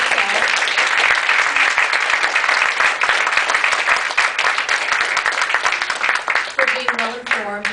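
A full audience claps steadily at a city candidate forum, loud, dense applause sustained for most of the stretch before tapering off as a voice begins speaking near the end.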